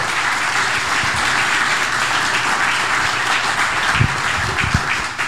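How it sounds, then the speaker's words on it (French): A live studio audience applauding a 200th episode recording, a dense, loud sustained wash of clapping from a crowd that continues evenly before tapering slightly at the end, with a few heavier thumps near the close. "On les applaudit, les trois."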